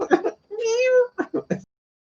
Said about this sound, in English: And the kitten.